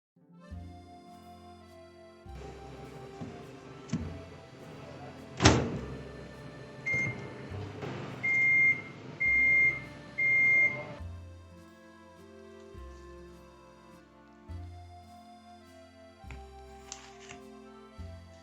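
A microwave oven heating a gratin hums steadily after a door clunk, then lets out a series of evenly spaced beeps before the hum stops; no talking.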